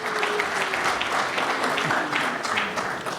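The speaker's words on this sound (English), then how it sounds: "Let's give a round of applause." An audience at a ceremony held at a prison in Zimbabwe gives a round of applause, a dense, steady clapping that is loud and continuous throughout with faint voices beneath it.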